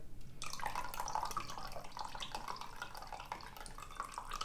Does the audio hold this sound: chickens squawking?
no